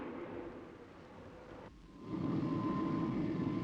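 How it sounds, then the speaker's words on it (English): A distant engine drone fades, dips briefly, then swells louder and steadier, like a propeller airplane approaching overhead. "Yeah, Maxie, it sounds like that airplane thing again."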